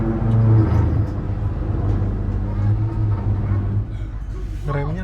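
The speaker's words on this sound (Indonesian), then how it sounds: "Remnya kasar banget, kenceng banget barusan suara remnya." Harsh, loud train brakes grinding as an Imperial train slows toward Yogyakarta, a heavy rumbling drone with a sharp squeal rising near the end, close and continuous.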